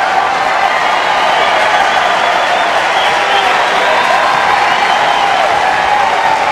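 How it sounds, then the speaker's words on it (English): Tennis crowd at a Cincinnati 2004 first-round match between Agassi and Fish, roaring with sustained cheering and applause, a dense, loud, unbroken wall of clapping and shouting from start to finish. "And that's who they're cheering."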